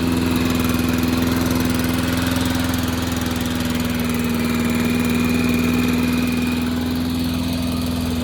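A Honda GCV160 lawn mower engine runs steadily after a recoil pull starter repair, a loud, close, continuous putter with a constant hum and no pauses.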